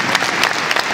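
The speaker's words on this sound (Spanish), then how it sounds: "Fuerte el aplauso para ellas." Loud, close audience applause at a music festival, a thick burst of many hands clapping steadily for a short moment.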